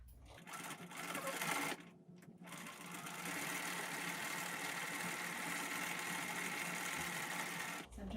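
A sewing machine runs in a steady, continuous whir as it top stitches a fabric face mask, pausing briefly near the start and again at the very end, close and fairly loud.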